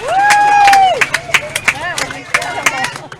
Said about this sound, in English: Crowd goes wild once again.